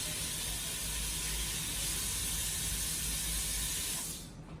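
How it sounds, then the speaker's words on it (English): Tap water runs steadily from a kitchen faucet while hands are washed during peanut butter cookie baking, a continuous close hiss that cuts off near the end. "let me wash my hands real quick."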